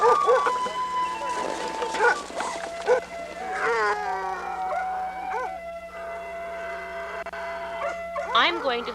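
Harnessed sled dogs at a Junior Iditarod start howl in long, wavering cries with occasional barks, several dogs close by, while someone talks over them.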